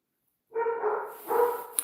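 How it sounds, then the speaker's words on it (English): A dog gives a couple of close, drawn-out barks and whining yelps after a brief silence. "And those are the dogs barking."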